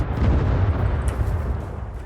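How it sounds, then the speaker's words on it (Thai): A loud, deep explosion in the game SCUM, near a bunker: a heavy rumbling boom that fills the whole moment and slowly tails off. "เสียงระเบิด"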